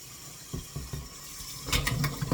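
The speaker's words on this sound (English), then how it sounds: "I'm going to go ahead and drain this hot water off of them" Hot water poured off boiled eggs into a kitchen sink, a few knocking clunks of the pot followed by a louder splashing rush of draining water near the end, with no talking.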